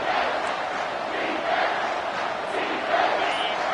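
A home football stadium crowd roars steadily on third down as the defense tries to get off the field, a dense, continuous wash of cheering with no break.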